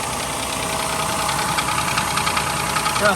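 Close van engine with a cylinder misfire idling steadily while warming up, a rough, rapid ticking knock running through the rumble, no voices.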